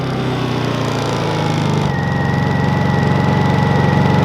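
A portable generator powering an RV drops into eco mode. Its steady engine drone shifts to a lower, slower running note and keeps a continuous throb at close range, with no talk over it.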